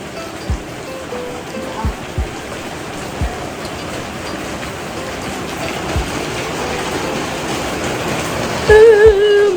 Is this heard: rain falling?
yes